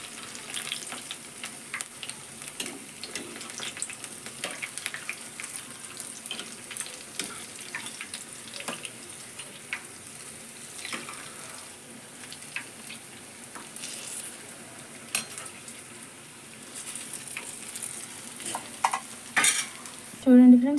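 Garelu, lentil vadas, frying in hot oil in a home kitchen, a soft continuous sizzle with occasional clinks and stirring, fairly faint and steady throughout.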